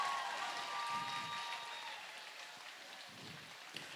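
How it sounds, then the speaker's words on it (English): Crowd applause at a county fair breeding swine show for the exhibitors entering the ring, a faint, diffuse rain-like wash of clapping that slowly fades, heard at a distance with a thin whistle-like tone in the background. "Give a big round of applause."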